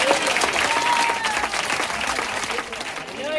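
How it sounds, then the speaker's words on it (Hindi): Steady applause from an audience at a Christmas church celebration fills the clip, many hands clapping together at an even, moderate volume. "मसीह के महिमा के लिए जोरदार बजा दीजिए ताली"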